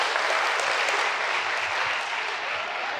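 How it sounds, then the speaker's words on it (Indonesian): Audience applause fills the room at an Indonesian talk on economic growth, a steady dense clapping that holds loud and even throughout without pause. "tepuk tangan nih buat teman-temannya"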